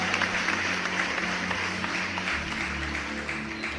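Sustained applause from a church congregation, a steady dense clapping texture, with low organ or keyboard chords held beneath it.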